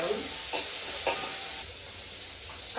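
Green chillies sautéing in a pan make a steady, close sizzle, broken by a few soft scrapes of stirring, with no voices.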